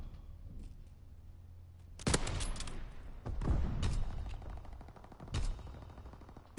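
Gunfire in the Call of Duty WW2 multiplayer video game: several sharp bursts and single loud shots ring out at irregular intervals over a quiet low hum, with no talking.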